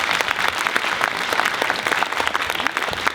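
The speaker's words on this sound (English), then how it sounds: "Can you give them a round of applause" A community gathering audience claps steadily in a dense round of applause that fills the room, moderately loud, with a faint murmur of crowd voices underneath.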